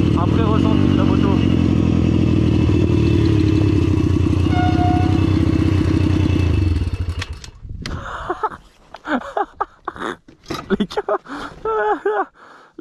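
A motorcycle engine runs loud and steady at close range with a constant vibrating drone for about seven seconds, then cuts off, leaving a person talking and gasping.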